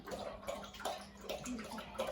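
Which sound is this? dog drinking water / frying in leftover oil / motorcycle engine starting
dog drinking water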